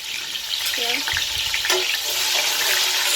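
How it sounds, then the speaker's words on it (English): Onions with salt and green spice fry in a pan, giving a dense, even hiss throughout with a couple of soft knocks. "I put my salt, put my onions and my green spice. Let it fry for about 5 seconds."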